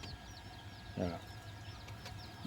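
Red junglefowl calling in a rural Thai setting, short clucking alarm notes rising above faint background chirping, with one louder burst in the middle; quiet and somewhat distant, with voices faintly present.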